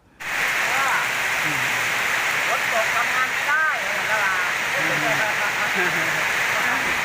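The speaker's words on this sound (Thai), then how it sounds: "ฝนตกครับฝนตก" Steady, loud rain pours down at a house roof-framing job site in Thailand, a dense continuous hiss filling the whole clip with faint voices underneath.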